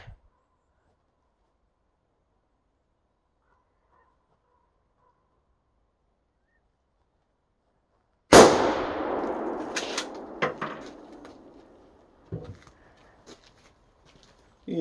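A single loud, close report from a CZ 527 Varmint rifle in .223 Remington breaks a long silence, its sharp crack decaying over a couple of seconds, followed by a few faint clicks and knocks.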